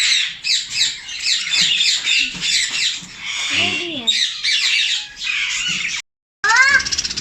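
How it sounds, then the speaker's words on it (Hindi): Ring-necked parrots, yellow ring-neck birds among them, give repeated harsh squawks and chattering calls close by, with a few short spoken words mixed in and a brief drop to silence near the end. "बाबा बाबा ये तोते हैं।"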